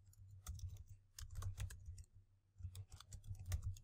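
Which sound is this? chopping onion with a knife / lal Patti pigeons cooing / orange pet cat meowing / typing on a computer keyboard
typing on a computer keyboard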